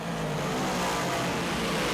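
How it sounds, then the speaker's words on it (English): Big block modified race cars roaring around a dirt track at night, a dense sustained engine drone from several cars running together. "He's 3 wide with Shepard and Danny Johnson down the back straightaway"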